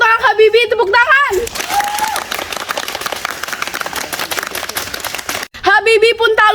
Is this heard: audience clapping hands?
yes